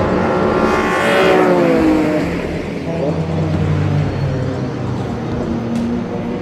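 Race cars at the Hockenheimring roar past loudly, one engine note climbing and sweeping by early before the din settles into a continuous blur of cars circulating nearby.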